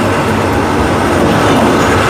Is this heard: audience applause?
no